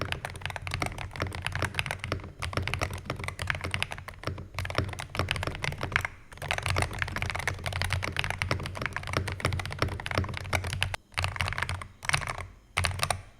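Steady, fast typing on a Skyloong GK75 HE Hall effect magnetic keyboard with silicone padding and foam, dense clacky keystrokes close up, broken by a few short pauses.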